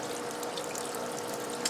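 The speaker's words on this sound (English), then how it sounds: "And the water is going in and going in." Water rushes steadily into a washing machine on a warm rinse cycle, a continuous hissing, splashing flow heard close by with no voices.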